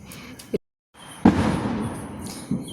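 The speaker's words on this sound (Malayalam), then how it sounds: "ഇവിടെ ഇപ്പോൾ ഫുൾ ഇന്ന് പടക്കം പൊട്ടിക്കുന്ന സൗണ്ടാണ്" Several firecracker bangs popping at irregular intervals during Vishu celebrations, one louder blast followed by a lingering rumble, against a noisy outdoor background.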